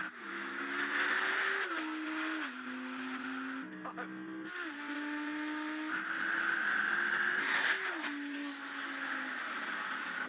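An Audi S e-tron GT and an Audi R8 launch in a drag race with a loud, sustained motor whine and engine roar that climbs in steps, while tires hiss beneath it.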